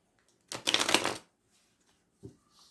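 A deck of cards is shuffled during a card reading in one quick riffling burst under a second long, followed later by a soft tap and a faint rustle, in a quiet room.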